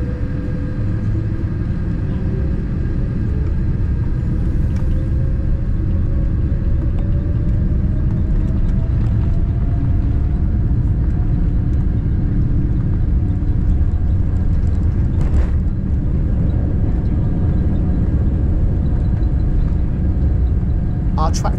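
Singapore Airlines Boeing 787-10 jet engines roaring steadily on the runway at takeoff, a loud continuous rumble heard from inside the cabin with a slowly rising whine.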